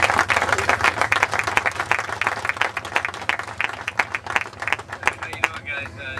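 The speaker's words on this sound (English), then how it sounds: "Give them a round of applause." A crowd gathered for a motorcycle toy run claps, with distinct individual claps over an engine rumble and light background voices, tapering off near the end.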